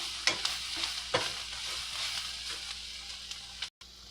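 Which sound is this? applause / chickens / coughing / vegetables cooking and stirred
vegetables cooking and stirred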